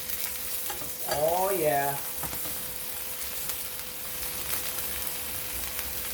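Steak cooked with chimichurri butter sizzles in a hot pan right after flipping, a steady broad hiss that runs the whole time, with a short exclaiming voice near the start.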